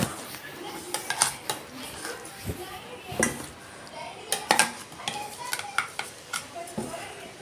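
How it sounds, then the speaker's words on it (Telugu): Ridge gourd chutney is scooped from a mixer jar into a serving bowl: a run of sharp spoon clinks and scrapes against the jar and bowl, close and uneven, with talking around them. "ఈ మిక్సీ జార్లోనే బీరకాయ పచ్చడి ఉండనివ్వకుండా వేరే బౌల్లో సర్వ్ చేసుకోవాలండి"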